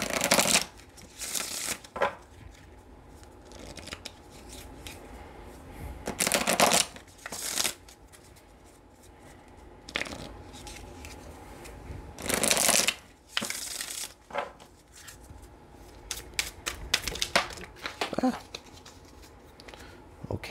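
Tarot cards are shuffled in several brisk, riffling bursts separated by quieter pauses, close and crisp, with a voice talking softly in between.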